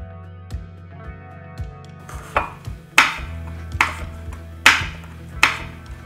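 A knife slices the outer flesh of a fruit thinly for a pickle on a cutting board, giving a series of crisp, close cuts that grow firmer and more spaced toward the end over a low background hum.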